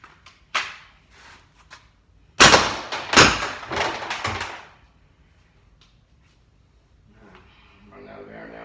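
A Pepperball VKS air gun with a 9.5-inch barrel, rated over 100 joules, fires rounds: one sharp pop, then a dense cluster of loud, quick thumping shots, followed by near silence and faint rustling.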